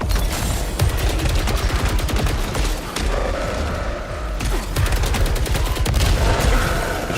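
A gun fires in the video game Saros as rapid, continuous bursts of shots, loud and dense, with brief gaps and layered impacts and booms throughout.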